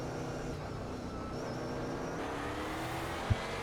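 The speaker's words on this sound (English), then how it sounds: "And off we go, the car ahead starting up" An iRacing race car engine whirs steadily at a race start, with other cars audible around it, a continuous mid-level drone and a brief sharp knock near the end.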